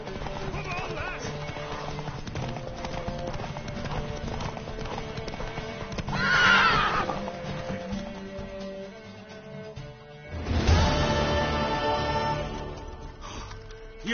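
Horse hooves clip-clop steadily in The Witcher 3 game, with a neighing whinny rising around midway, under ongoing game ambience and voices talking.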